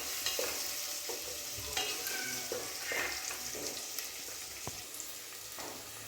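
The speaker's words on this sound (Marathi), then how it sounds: "कांदा थोडासा लाल होईपर्यंत परतून घेऊया।" Sliced onion sizzles in a pan over high heat while being stirred, steady bright frying with repeated scraping strokes of the spatula.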